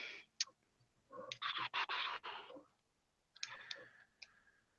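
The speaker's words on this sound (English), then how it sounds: "So I'm gonna write this down." Pen writing notes on paper during a geology lesson, faint scratchy strokes in short bursts with pauses between them, no voices.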